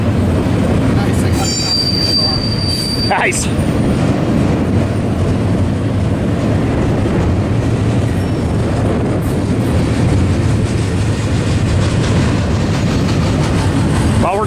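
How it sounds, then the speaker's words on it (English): A freight train passes close by on Cajon Pass, a loud, steady rumble of rail cars rolling continuously with wheel squeal and clatter throughout, and a brief word spoken over it. "Trapped until the train's past us"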